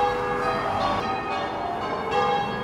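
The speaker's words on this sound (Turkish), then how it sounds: "kilise çanları çalıyor falan" Church bells ring steadily in a small English town, with layered, sustained metallic tones over a constant background, no voices.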